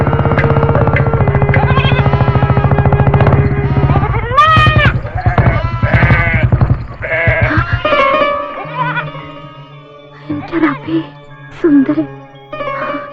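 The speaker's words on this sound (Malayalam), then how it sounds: "എത്ര ആടുകൾ പോട്ടെ." Goats bleating, with a few wavering cries rising over a dense mix of other sounds in a film scene, then thinning to sparse, quieter calls.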